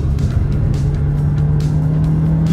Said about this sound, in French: Les pneus sont à l'agonie.